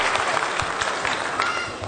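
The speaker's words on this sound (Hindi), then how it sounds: "एक बार जोरदार तालियों से स्वागत किया जाए" An audience claps steadily for about two seconds, a dense even patter of many hands with no voices rising above it.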